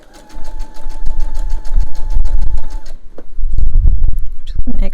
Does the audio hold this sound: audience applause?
no